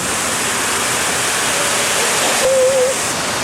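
Water from a rooftop shower feature splashes in a continuous loud hiss, close up and unbroken, with a brief faint tone late in the clip.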